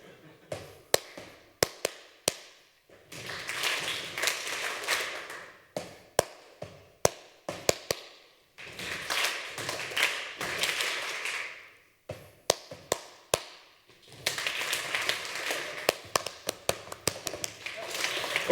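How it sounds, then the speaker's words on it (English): A conference audience at a tech talk claps and stomps in rhythm. Sharp, scattered single claps come between longer loud bursts of group clapping and thudding, heard from within the hall. "you have to do also the clap and the foot"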